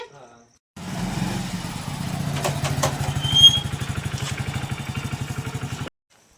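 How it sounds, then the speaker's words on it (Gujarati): A motorcycle engine starts up and idles with a steady, rapid chugging rhythm for several seconds, then cuts off abruptly into silence. "આ બે કોનું મોટરસાયકલ લઈને આયા જામુદીન"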